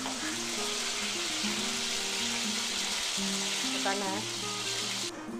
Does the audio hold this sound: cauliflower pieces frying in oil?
yes